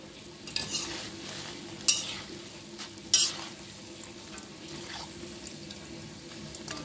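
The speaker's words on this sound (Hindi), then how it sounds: "देखिए उलटते पलटते हुए मैं बहुत अच्छे से फ्राई कर रही हूँ" Holi snacks deep-frying in oil to a cashew colour while being turned and stirred: a steady, quiet sizzle with a few sharp clinks and scrapes of stirring.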